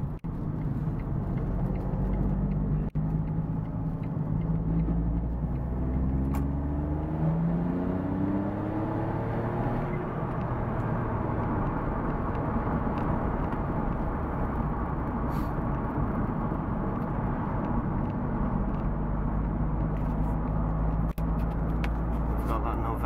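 A Smart Brabus Roadster turns around a corner, its small engine giving a steady droning hum with gear-shifting pitch sweeps early on, while someone talks over it.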